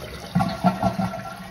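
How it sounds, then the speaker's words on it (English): An American Standard Champion 4 toilet fitted with a new flush valve seal begins to flush, giving a short burst of gurgling water pulses close to the microphone. "And now we're gonna flush."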